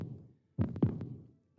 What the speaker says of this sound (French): avec ses battements de cœur.